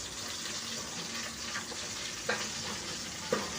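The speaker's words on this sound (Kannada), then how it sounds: "ನಾನು ಸಾಸಿವೆ ಒಗ್ಗರಣೆಗೆ ಕರಿಬೇವಿನ ಸೊಪ್ಪು ಕೂಡ ಹಾಕ್ಕೊಳ್ತಾ ಇದ್ದೀನಿ" Mustard seeds and curry leaves sizzle in a spoonful of hot oil, tempering for a sprouted horse gram greens sambar: a steady close frying hiss with two brief sharper crackles, no talking.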